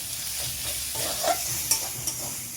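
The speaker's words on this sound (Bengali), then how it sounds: "এবার আমি কাঁচা লঙ্কা বাটা দেবো" A spice masala sizzles in a hot pan as green chili paste is added and stirred through, giving a close, even crackle broken by a few sharp scraping taps.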